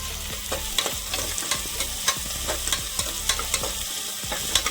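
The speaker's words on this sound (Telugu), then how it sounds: "నెక్స్ట్ చిన్నగా తరిగి పెట్టుకున్న ఆనియన్స్ వేసుకున్నాం. బాగా రెడ్ అయ్యేంత వరకు మనం కలుపుతూనే ఉండాలి." Finely chopped onions fry in a pan for a raw peanut curry, a steady sizzle broken by regular scraping strokes of a spoon stirring close up.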